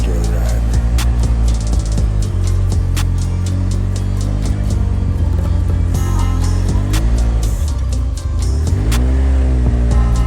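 A Speed UTV drives along with a loud, steady engine drone that rises and falls as the throttle changes, close and continuous throughout with no talking.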